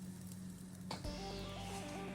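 Asafoetida dropped into hot oil with already-fried urad dal and mustard seeds gives a sharp burst of sizzling, then a steady crackling fry with faint scraping, close and alone.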